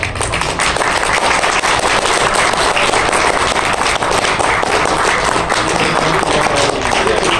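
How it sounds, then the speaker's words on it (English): Loud, dense audience applause at Akon 2017 after a Rockman 4 rom hack speedrun, a crowd of many hands clapping steadily and evenly for several seconds with hardly any talk. "Give him another round of applause"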